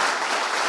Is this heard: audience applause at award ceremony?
yes